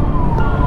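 Ambulance siren in jammed market-area traffic, a steady tone continuing through the short stretch over dense low road rumble.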